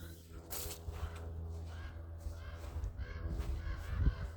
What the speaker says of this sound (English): You hear the crows making all the noise.